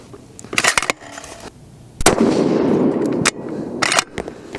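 A 7mm PRC rifle loaded with handloads of Hodgdon H4831 shortcut powder fires at an outdoor range, with sharp loud reports spaced a second or two apart, each one followed by a short echoing decay.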